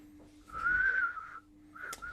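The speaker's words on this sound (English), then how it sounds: "Because I can't whistle well right now." A person whistles a single sustained, slightly wavering tone, soft and close, followed by a brief second whistle after a short pause, with a faint steady hum beneath.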